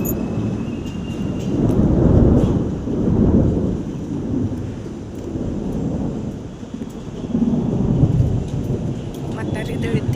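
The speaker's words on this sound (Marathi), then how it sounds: "केवढं पाऊस झालाय" Heavy monsoon rain pouring steadily with deep rolling thunder swelling and fading several times, loud and close, with no voices over it.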